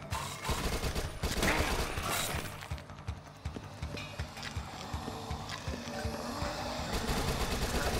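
Rapid submachine-gun bursts in the Dead Nation zombie shooter, a string of fast, punchy shots over in-game action sounds, fairly quiet overall.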